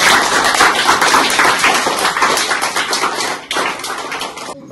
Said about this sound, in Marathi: सगळ्यांनी टाळ्या वाजवून मॅडमचं धन्यवाद करावा।